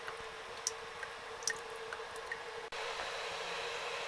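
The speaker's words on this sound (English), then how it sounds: "Just got a few drips coming out of the water output." Water drips from the cooling-water outlet of a home-built moonshine still, a few sparse, faint drips over steady hiss, then a brief cut and a slightly louder wash of noise.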